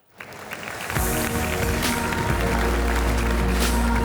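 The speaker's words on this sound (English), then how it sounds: "So a big round of applause for Artjem Weissbeck." A conference audience breaks into applause, broad dense clapping swelling in after a brief quiet start and holding steady at full strength throughout.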